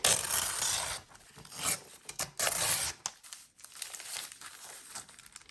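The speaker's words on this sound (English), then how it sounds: "I need to tear right here" A strip being torn off a paper bag in slow, rasping pulls, close and crisp, several tearing and crinkling bursts separated by quiet gaps.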